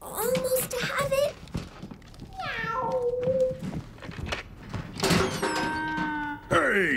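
A cat meows several times, with rising and falling cries close by, mixed with children's voices, a door sliding and a thunk.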